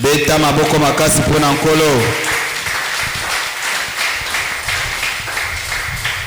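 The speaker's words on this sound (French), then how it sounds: "Applaudissons le Seigneur." Church congregation applauding during a Sunday worship service, broad steady clapping filling the room for several seconds after a voice speaks briefly at the start.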